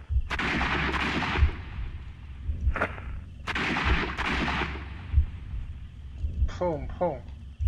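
Gunfire in the detective video game Sherlock Holmes: Crimes and Punishments: several sharp, loud shots with short decaying tails, spaced irregularly over a steady background, with brief voice-like sounds near the end.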